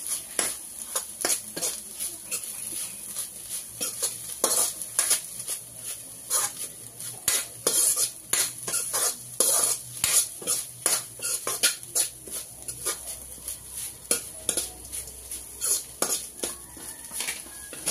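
Soybeans stir-fried in a pan with whole coriander and cumin seeds, heard as a faint sizzle under frequent light metallic scrapes and clinks of a spatula against the pan in quick irregular strokes.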